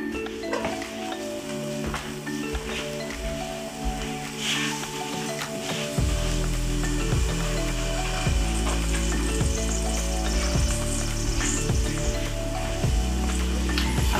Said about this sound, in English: I'm going to start by sauteing my vegetables